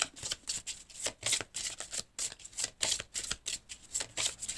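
Playing cards are shuffled in a steady run of quick, crisp riffling flutters, close and fairly quiet, with no talking over them.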